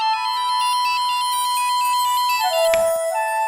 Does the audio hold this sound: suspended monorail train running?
no